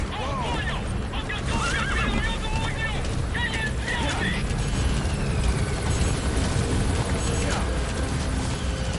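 Helicopter rotor drone in the video game Metal Gear Solid V, loud and steady throughout, mixed with horse whinnies, hoof clops and other game noise.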